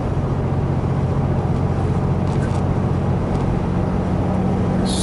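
The engine of a 2010 RAM 2500 truck runs at low RPM while driving, a steady, loud, low droning rumble with constant road noise and no distinct changes in pitch.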